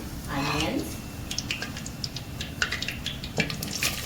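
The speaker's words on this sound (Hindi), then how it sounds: "अब हम डाल रहे हैं ज़ीरा डालते हैं और साथ ही में हम डाल देते हैं" Cumin and onions go into hot oil in a pan while making Karela Piyaz: a brief burst of sizzling, then light clinks and scrapes of a utensil against the pan, close by, as someone talks.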